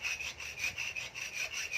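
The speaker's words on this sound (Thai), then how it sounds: "ก็เนี่ยครับเลื่อยไปเรื่อยๆครับได้ออกกำลังกายไปในตัวด้วยนะครับ" A hand saw cuts through an aluminium rear footrest with steady, rhythmic back-and-forth strokes, close and alone with no talk.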